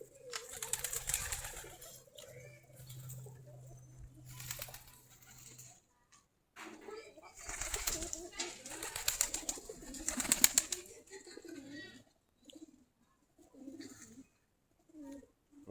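Native Giribaj pigeons feeding, with soft repeated cooing mixed with pecking and light pattering of grain and wing movement, close and intermittent, rising and falling in bursts with short quiet gaps.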